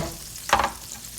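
Thin-cut chicken pieces frying in oil make a soft, steady sizzle, and one brief louder crackling burst rises near the middle.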